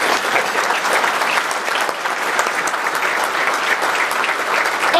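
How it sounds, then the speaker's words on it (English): A room at a chamber of commerce gathering breaks into a steady, even round of applause for the staff, with thick continuous clapping from a sizeable audience throughout. "Now seems a good time to recognize them with a round of applause for all they've done."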